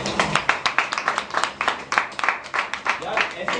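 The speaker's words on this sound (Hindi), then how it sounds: "पहले इन दोनों के लिए तालियां बजाएं।" Participants at a follow-up training session give a modest round of hand clapping for two newcomers, the claps loose and uneven, pulsing in small bursts nearby.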